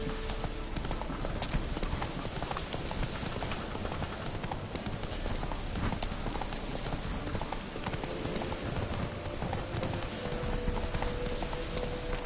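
The horse Roach gallops in a video game, its rapid hooves clip-clopping loud and continuous under a dense wash of noise for the whole stretch.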